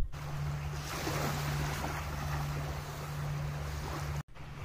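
Waves and wind on the beach at First Landing State Park, Virginia Beach: a steady broad rush of surf and wind buffeting the microphone with a low hum beneath, continuous and fairly loud, then a brief dropout near the end.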